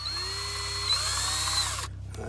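A power drill spins a metal piece, whirring with a steady tone that rises in pitch as it speeds up, then cuts off abruptly near the end, leaving a faint low hum.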